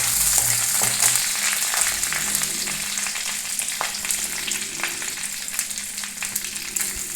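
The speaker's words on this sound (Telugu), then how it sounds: "నెయ్యి హీట్ ఎక్కాక అందులో కరివేపాకు, ఎల్లుల్లిపాయలు వేసి వేయించాలి" Curry leaves and garlic frying in hot ghee in a home kitchen, a loud continuous sizzle and crackle with faint stirring scrapes, close and steady throughout, no voices.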